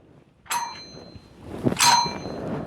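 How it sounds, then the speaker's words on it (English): A big vintage bell at an estate sale rings twice, each a bright metallic clang with a ringing tail, the second stroke louder and longer, with no talk over it. "Ooh, is this a big bell? Did you ring this?"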